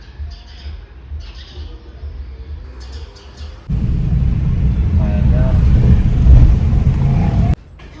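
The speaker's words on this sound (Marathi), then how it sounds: "गाडी येते" A car engine rumbles loudly up close for several seconds as it arrives, then cuts off abruptly; before it, quieter street ambience with faint chirps.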